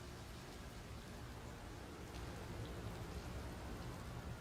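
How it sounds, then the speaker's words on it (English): Steady rain falls indoors inside a gravity-altered structure in the space exploration game Outer Wilds, as a dense, even hiss of droplets that stays soft and unbroken throughout. "It appears to be raining inside somehow."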